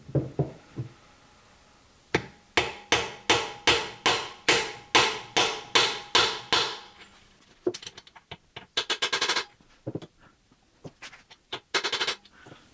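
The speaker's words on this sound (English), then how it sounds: "I'm going to try to tap it in there a little bit and try to get it in straight this time." Part being tapped into place on a crate engine: a steady run of about a dozen sharp, evenly spaced knocks, then a pause and a few quicker clustered taps near the end, close and fairly loud with no talk.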